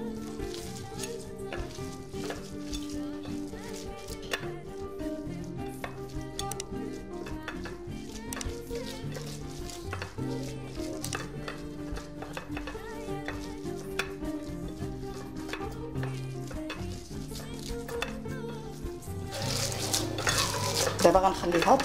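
A minced meat mixture for kefta, seasoned with ginger and oil, being stirred and worked by hand: a continuous moist squelching and scraping, close and steady, beneath tonal background music.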